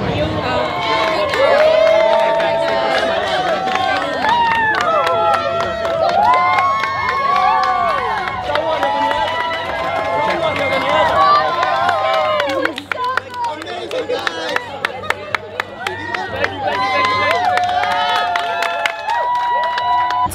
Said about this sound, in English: Everyone is leaving and they're all waiting and cheering.